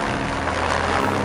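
A steady, droning rotor and engine roar from a helicopter balancing on an edge in Namche, Nepal, loud and continuous, with no voices.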